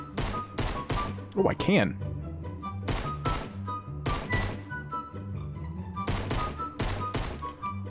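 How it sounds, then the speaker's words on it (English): Pistol shots in the Fortnite battle royale game, a string of sharp separate bangs in quick bursts with background game music, someone briefly speaking over them partway through. "Can I actually hit him with a pistol?"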